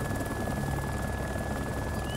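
Helicopter engine in the video game DayZ, a steady droning whir with a constant high whine, loud and continuous throughout with no talk.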